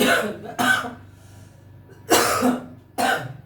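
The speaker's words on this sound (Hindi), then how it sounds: "थोड़ा अस्वस्थ होने के कारण खांसी आ रही है" Four harsh coughs in two pairs, close and loud, separated by short quiet pauses.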